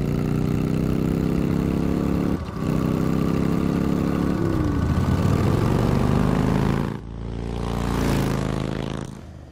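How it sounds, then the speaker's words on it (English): A car engine drives along in the Batman Telltale Series game, a loud, steady low hum that dips briefly, rises and wavers in pitch, then drops away and swells again near the end, with no talking. "In my sexy, expensive car. Vroom, vroom."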